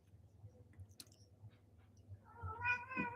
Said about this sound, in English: if you hear meowing in the back